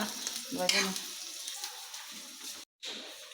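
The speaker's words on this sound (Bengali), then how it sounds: "পরোটা বাজতেছে" Paratha sizzling and frying in a pan, a steady close hiss with a brief louder stir or flip near the start and a short dropout near the end.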